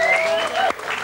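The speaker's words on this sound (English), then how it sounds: "Will you give him a nice round of applause?" A studio audience on a 1994 talk show gives brief, close applause, a short dense burst of clapping that drops off within about a second.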